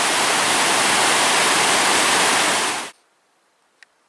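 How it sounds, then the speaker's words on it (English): A waterfall on a hiking trail roars as a loud, steady rush of water for about three seconds, then cuts off abruptly into near silence with a brief faint click. "And one last look at the waterfall."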